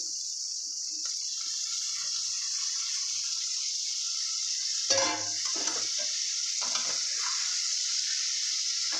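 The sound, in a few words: fish frying with sautéed onion and chili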